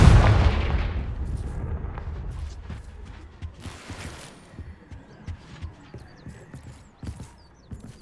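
A Confringo fire spell blasts in Hogwarts Legacy. It lands as a loud, booming burst at the start that fades over a couple of seconds, then gives way to scattered small clatters and knocks of debris.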